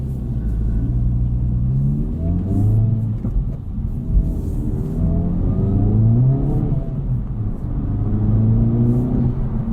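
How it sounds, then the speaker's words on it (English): A 2024 Acura Integra Type S exhaust while driving, a loud, deep, steady engine rumble with rising and falling revs as the car accelerates and shifts, heard close up throughout. "it's just a really nice sounding exhaust."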